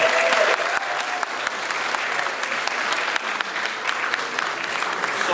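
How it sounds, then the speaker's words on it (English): A crowd gives a steady round of applause for musicians who just performed at the Ballyfermot and Cherry Orchard festival launch, dense and even throughout with faint voices underneath. "they deserve a big round of applause"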